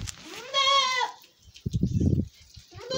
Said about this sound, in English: we have new goats like these two